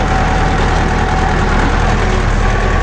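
A broken-down tractor engine runs steadily, limping along on three wheels on the way back to base, with a continuous loud low rumble and a knocking, vibrating throb throughout.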